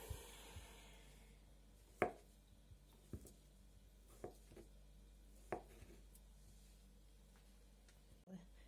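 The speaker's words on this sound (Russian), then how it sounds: "Нарежу первую картошечку." Potatoes being chopped with a knife for a vinaigrette beet salad: sparse, irregular knife strikes on a cutting board, a handful of sharp taps several seconds apart, fairly quiet against a low background hum.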